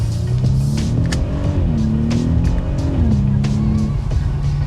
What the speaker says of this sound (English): Quick acceleration now.